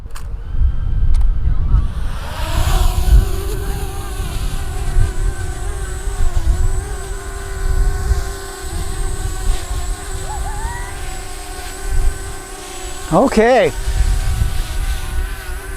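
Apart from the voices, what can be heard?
EXO Mini Pro drone flying and hovering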